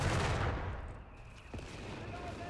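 Machine gun fire in the World War II strategy game Company of Heroes 3, bursts of rapid gunfire and booms loud at first and then fading under softer battle noise.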